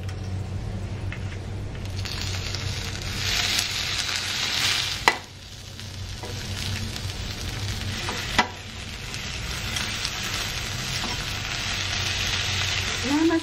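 Shrimp-filled folded tortillas frying in oil over medium-high heat, a steady, close sizzle throughout with a couple of sharp clacks of utensils against the pan and a light scraping stir.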